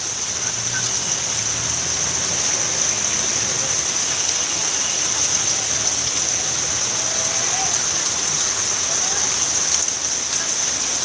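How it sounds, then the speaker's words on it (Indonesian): Heavy rain pours down at an outdoor bull race event in a dense, constant hiss that fills the whole stretch, steady and close, with no talking. "Hujannya cukup deras."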